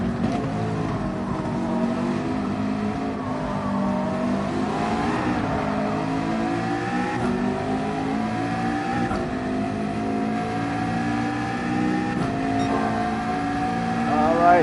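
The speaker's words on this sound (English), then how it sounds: "NSX sounding very nice in that Rev Happy VTEC" A Honda NSX's VTEC engine revs in Gran Turismo 7 during a race at Spa, rising and falling through the gears in a loud, continuous high-pitched howl that runs the whole stretch with no talk over it.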